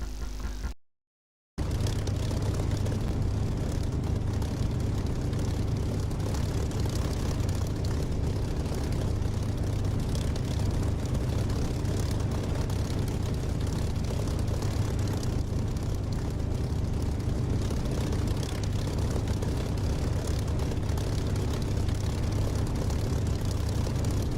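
Aircraft engine drone in the DCS flight simulator game, a steady low rumbling hum that runs continuously after a brief dropout at the start.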